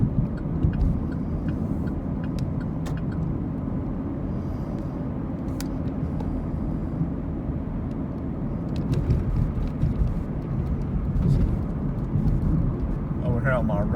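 A car drives on highway 27 into downtown Chattanooga, giving off a steady, loud low road rumble and engine drone through the cabin for the whole stretch, with a few faint ticks and rattles over it.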